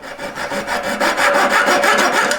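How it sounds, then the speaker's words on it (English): Hand sawing through an abrasive roll with a saw blade: steady back-and-forth rasping strokes, close and fairly loud, repeating in an even rhythm with no talk. "Straight across it down the middle."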